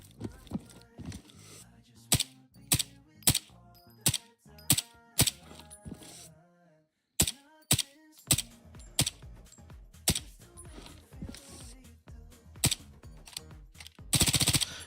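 Honey Badger rifle fired in the video game Incursion Red River: sharp shots at fairly even intervals with a short pause, ending in a dense burst of fire, with someone talking throughout.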